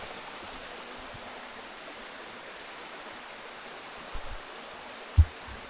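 Steady rushing of a flowing stream in a forest, constant and close, with a couple of faint knocks near the end.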